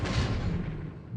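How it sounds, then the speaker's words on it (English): Torpedo hits explode in the naval war game War in the Pacific: a single dense, rumbling blast lasting about a second, loud and broadband, with no talk. "2 torpedo hits."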